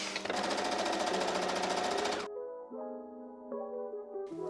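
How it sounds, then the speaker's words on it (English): A sewing machine runs in a fast continuous whir while stitching along the edge of a detachable collar with ruffles, then stops. A tonal, music-like sound follows in the latter half. "now I'm going to carefully sew all along this edge to encase all of our little ruffles"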